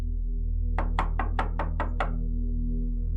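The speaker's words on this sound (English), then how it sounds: "there was a soft knock on the bedroom door" Seven quick, soft knocks land in an even rhythm on a bedroom door as a sound effect, set over a low steady hum that continues after the knocking stops.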